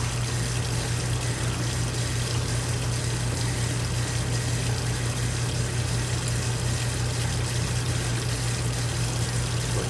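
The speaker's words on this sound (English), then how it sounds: "Cold water on." Cold water running from a tap in a steady, unbroken rush that stays even and close, with a low hum beneath it and no voices.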